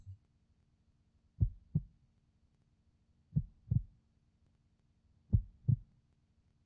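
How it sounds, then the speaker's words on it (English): Heartbeats in the video game To the Moon come as three spaced double thumps, deep and muffled lub-dub pairs set against near silence. "Why are the heartbeats?"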